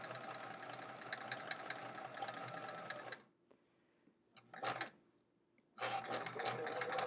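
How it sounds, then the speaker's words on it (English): Sewing machine chain piecing quilt block pieces, a steady rapid mechanical stitching rattle for a few seconds, a brief pause with a short burst, then stitching resumes; close and even. "So that was our chain piecing again, sewing all of them in like a long chain here."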